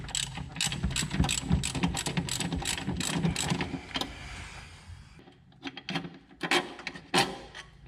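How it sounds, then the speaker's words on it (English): A socket ratchet works the lower nut-and-bolt of the top mount on a 2012 Subaru Forester during transmission removal, giving a steady run of close, sharp clicks, then a short pause and a few more bursts of ratcheting. "The lower bolt is a nut and a bolt, so you're going to need a socket"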